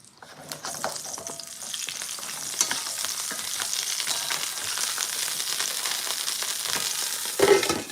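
Food cooks in oil in a pan with a steady, fairly loud sizzle and frequent crisp crackles, plus occasional clatter as it is moved around. A brief knock sounds near the end, and no voices are heard.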